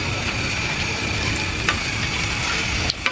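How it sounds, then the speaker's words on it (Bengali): Palm fritter batter of ripe palm juice dropping into hot oil, giving a steady close sizzle and bubbling hiss throughout, with a brief clatter near the end. "এখন আমি এটা ছাড়বো, তালের বড়া খামির আমি তেলে ছাড়বো।"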